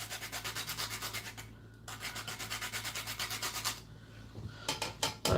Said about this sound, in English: This is my little nutmeg grater. This is just to grate the nutmeg.